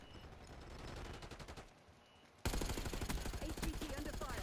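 Video game gunfire: sparse shots at first, then a loud dense burst of rapid automatic fire that rattles on continuously to the end.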